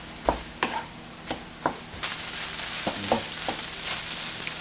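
Seafood fried rice made with day-old rice is stirred and tossed in a pan, with a few sharp scraping clinks of the utensil over a steady sizzling hiss that grows fuller partway through.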